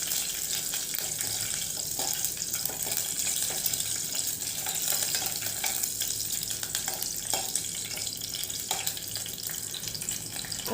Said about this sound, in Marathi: गॅस मध्यम आचेवरतीच ठेवलेला आहे मी व आपण हे तुपावरती छान परतून घेणार आहोत।